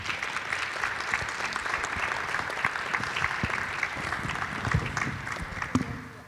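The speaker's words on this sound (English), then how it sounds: "a round of applause for our panelists and our moderator" An audience at an ocean exploration conference applauds panelists and a moderator with sustained, dense clapping at moderate distance, tapering slightly toward the end.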